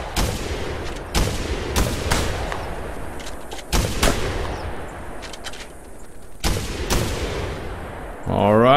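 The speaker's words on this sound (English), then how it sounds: "I'm shooting from the back of the flock" Shotgun blasts while hunting a flock of birds in TheHunter game: several loud, sharp separate shots at irregular intervals, some close together, over a quiet outdoor background, ending with talk.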